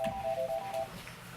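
A telephone rings briefly in a classroom, a thin electronic warble repeating for under a second against the quiet murmur of the room.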